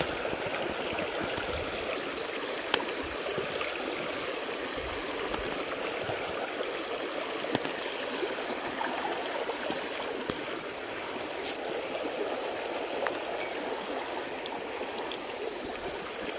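A river stream flows steadily over stones, a continuous close rushing and trickling with faint clicks, uninterrupted for the whole stretch.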